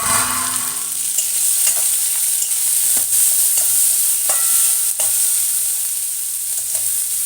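Onions and ginger frying in a pan for brinjal fry give off a loud, steady, close sizzle, with sharp ladle scrapes and taps at intervals.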